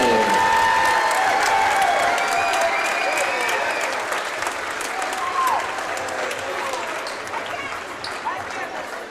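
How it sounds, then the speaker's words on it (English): Sustained applause and cheering from a crowd in a high school basketball gym as seniors and their parents are honored, steady and dense for the full stretch, with whistles and voices rising through the clapping. "I'd like to ask for one final round of applause for all of tonight's seniors and their parents."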